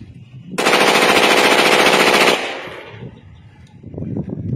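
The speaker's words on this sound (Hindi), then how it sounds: "अभी पहले ये बड़े मैगजीन से ब्रश मारना है" A steel-body pistol with a 25-round magazine fires one rapid full-auto burst lasting under two seconds, loud and close, then cuts off sharply into a short echoing tail.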